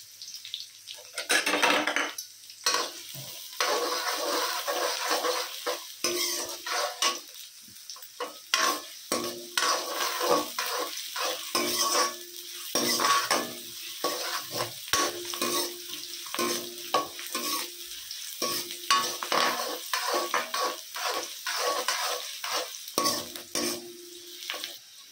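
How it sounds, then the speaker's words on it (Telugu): Onions stir-frying in a pan for egg fried rice, a steady close sizzle broken by frequent scraping and clinking of a spatula against the metal, continuous throughout with no talking. "ఉల్లిపాయలు కొంచెం వేగాక"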